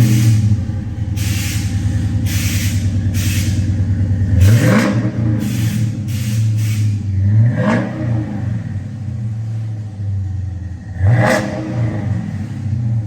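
Dodge Challenger SRT8 fitted with a Borla ATAK exhaust and a rear resonator delete, its V8 barking through three or four sharp, loud revs that rise and fall over a steady rumbling idle, close by.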